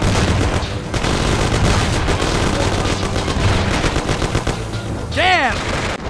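Machine gun fire rattles in rapid, dense bursts during a shootout in the video game Mafia: The City of Lost Heaven, loud and continuous, with shouting voices mixed in.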